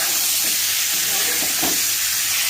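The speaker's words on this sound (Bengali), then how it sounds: "মাছ আলু পটল সবগুলো একবারে দিয়ে দিয়েছি, এরপর ভালোভাবে ভেজে নেব।" Fish pieces, potatoes and pointed gourd fry together in hot spiced oil, a loud, continuous close sizzle with a few soft stirring scrapes.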